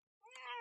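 A single cat gives one close, clear meow that swells after a brief silence and holds to the end, with no other sounds.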